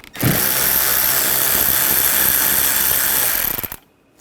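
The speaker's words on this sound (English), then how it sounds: "In the inner wheel well, we're going to take these screws out. Use a T20 socket." A power tool spins a T20 socket to back out inner wheel well screws on a 2013-2022 Buick Encore, running in one loud continuous burst for over three seconds before stopping abruptly, leaving near silence.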